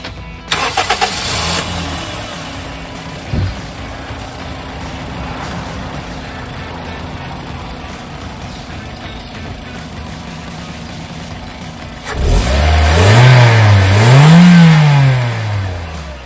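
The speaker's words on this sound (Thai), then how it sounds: "เราลองฟังเสียงเครื่องยนต์กันก่อนสักครู่นะครับผม" A 2012 Toyota Vios 1.5 G engine idles steadily for a long stretch, then revs up loudly twice near the end.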